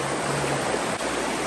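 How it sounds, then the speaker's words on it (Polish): A small mountain stream flows steadily beside a road in the Alps, a broad continuous rushing and burbling of water, close and loud throughout with no gaps. "Jesteśmy nad jakąś rzeczką."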